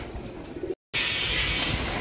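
Pigeons in a new loft give faint low coos against a steady broadband hiss, with a brief silent dropout partway through.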